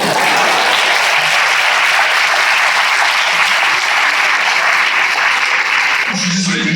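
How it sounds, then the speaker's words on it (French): Loud, dense applause from an audience at a political gathering in Nancy, sustained and even throughout, like a packed room clapping together, easing slightly just before the end. "On applaudit là quand même."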